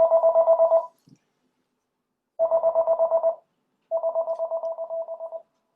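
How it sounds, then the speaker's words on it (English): A telephone rings during an indoor talk session with a loud, warbling electronic ring. There are three bursts, each made of rapid pulses, separated by short silences, with a faint click in the gap between the first two. "Sorry about the phone call."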